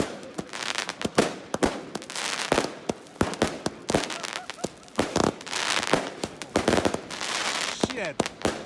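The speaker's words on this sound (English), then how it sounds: "so hoping to set off some fireworks." Fireworks set off on July 1st outdoors in the Rockies crackle and pop in rapid bursts of sharp bangs, loud and close, with many firecracker-like snaps in irregular clusters.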